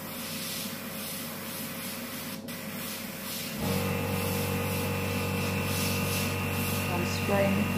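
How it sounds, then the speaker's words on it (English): An airbrush sprays white paint over a fashion-style card, a steady close hiss that grows fuller and louder partway through and then holds evenly. "Just going to spray that one white before I change the blue into a green"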